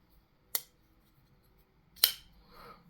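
A Chris Reeve Umnumzaan folding knife with a Magnacut blade is worked open and shut, giving two sharp, crisp metallic clicks about a second and a half apart in a quiet room, followed by a soft brushing rustle.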